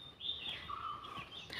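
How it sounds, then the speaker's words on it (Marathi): Faint birdsong outdoors: a few thin, high chirps and warbling calls sound at a distance over soft background hiss, with no one speaking. "पक्ष्यांचा आवाज येतोय।"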